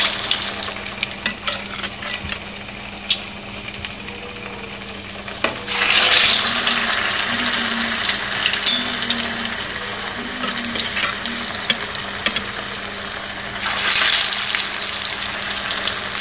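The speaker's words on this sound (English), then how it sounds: "All we have to do is just to fry it." Cabbage with pumpkin seeds fries in a pan with a steady, close sizzle that surges louder in two bursts as the food is stirred, accompanied by faint scraping.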